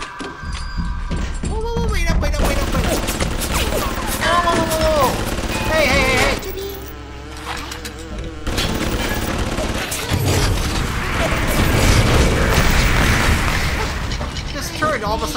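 Gunfire in the video game BioShock, a run of booming shots and bursts mixed with game sounds and music, loud and close, with a voice talking over parts of it.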